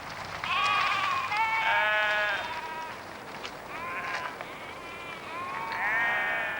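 Goats in the Middle East bleat repeatedly, several wavering calls overlapping one another in steady, fairly close succession with no pauses.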